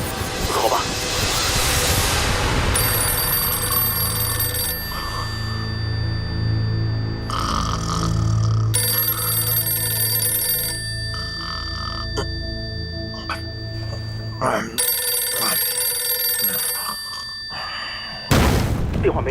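A telephone rings repeatedly and goes unanswered at a military command post during wartime, bursts of bright ringing separated by pauses, with low rumbling background and a sharp noise at the end.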